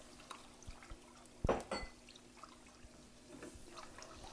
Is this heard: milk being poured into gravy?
yes